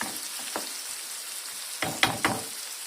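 Salted ingredients for egg kavurma cooking in a pan, a soft hiss of frying broken by a few sharp stirring scrapes and crackles near the end.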